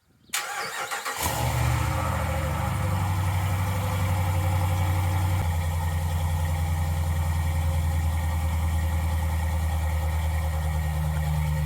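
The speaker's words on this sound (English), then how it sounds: "Gratuitous Hemi cold start." Cold start of a Hemi engine: a brief crank catches into a loud, steady idle with a deep, even rumble that holds close and constant to the end, no voices over it.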